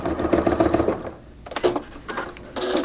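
A sewing machine stitches a faux flange binding along a marked line, running in quick bursts of rapid mechanical whirring with a brief pause in the middle.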